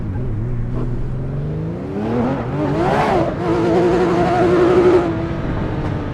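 A car driven in the racing game Assetto Corsa Evo, its engine note rising and falling through gears with a steady mid-loud drone and revving surges, no talk over it.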